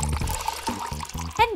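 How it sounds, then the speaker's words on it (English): Water and blue paint pour into a cup with a soft trickling splash, heard beneath someone talking brightly over it. "First, pour in some water and blue paint!"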